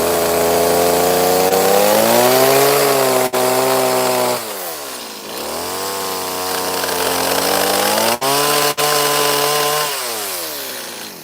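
A chainsaw carves a wooden cowboy boot, its engine revving up and down continuously at close range with a few brief drops in power, loud and with no talk.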